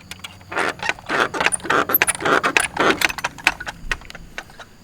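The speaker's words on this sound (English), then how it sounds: "Yeah, it's easy to open that gate." A gate being opened at a house, with close, repeated metallic jangling and rattling clanks in quick irregular bursts, plus a faint vehicle hum in the background and no talk.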